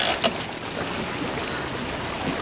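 Haines Hunter fishing boat motoring forward offshore, a steady broad rush of engine and water noise that stays loud and constant throughout, no voices.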